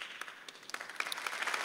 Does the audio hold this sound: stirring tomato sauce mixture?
no